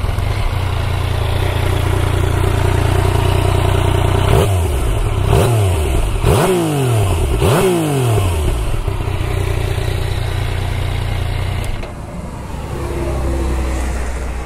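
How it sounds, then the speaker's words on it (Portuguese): A 2020/21 Yamaha Tracer 900 GT, a three-cylinder crossplane motorcycle, idles with a deep, close rumble. It then gets about four quick throttle blips that rise and fall sharply before settling back to a steady idle. "Vou ligar a máquina para vocês ouvirem o ronco dela"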